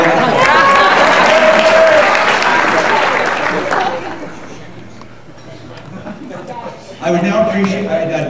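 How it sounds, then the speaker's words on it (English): Audience applause for a colleague at a teachers' union president's speech, loud and dense for about four seconds, fading into a quieter stretch, then a burst of cheering and chatter near the end. "And an extra clap for Betty, please"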